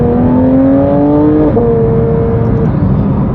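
A Porsche 911 GT3 with a naturally aspirated engine accelerates hard, its loud, rising engine note climbing steadily through the gears with a brief shift near the middle, continuous and close throughout.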